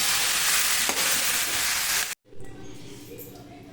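Spices and garlic dry-roast in a pan for dhaba-style paneer masala, giving a steady close-up sizzling hiss that cuts off abruptly, followed by a quieter, softer pan sound.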